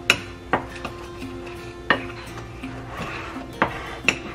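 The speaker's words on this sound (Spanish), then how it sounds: "La voy a menear también muy bien para que se mezclen" A spoon stirring sugar into a sweet flour dough mixture for gorditas de azúcar in a bowl, giving about seven sharp, irregularly spaced clinks against the bowl over a soft background.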